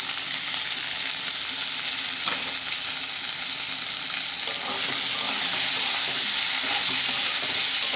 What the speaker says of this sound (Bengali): এরপর কিছুক্ষণ নেড়ে নেবো এইভাবে